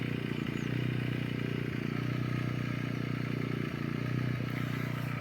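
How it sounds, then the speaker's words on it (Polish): A Mast YH 2200 portable power generator idles at low revs, giving a steady, close, even mechanical drone with a faint regular ticking pulse that carries on without a break. "niech sobie ten agregat popracuje"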